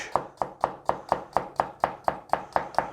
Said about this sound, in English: chop our garlic down like so